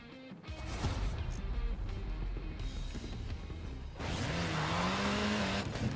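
A Mini Cooper rally car in Forza Horizon 4 keeps up a steady engine drone with shifting revs, then a louder, gravelly surge of tire and surface noise as it accelerates near the end.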